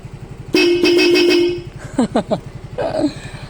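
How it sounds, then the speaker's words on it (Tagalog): A Bosch Europa horn on a Fazzio motorcycle honks twice in quick succession, loud and close, followed by a few shorter blips over a steady idling engine rumble. "Tapos yung busina natin, nalalakasan ako sa ano niya."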